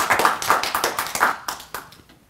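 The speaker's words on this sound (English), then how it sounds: "So give him a round of applause." A small audience gives a presenter short applause after a technical talk, a handful of distinct, fairly close claps that thin out and fade within about two seconds.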